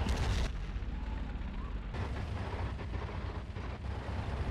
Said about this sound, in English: Using the M10 cannon